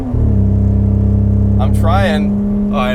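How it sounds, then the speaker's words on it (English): A 2000 Toyota Crown Athlete Estate with an exhaust leak after the exhaust fell and was replaced drones loudly with a steady low engine rumble and rasp while people talk over it inside the car. "That noise is a awesome exhaust leak because my exhaust fell and it"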